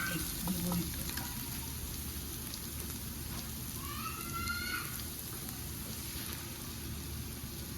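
Eggs added to vegetables frying in a pan give a soft, continuous sizzle with faint crackles and a few clinks of a utensil, fairly quiet and steady, with no voices.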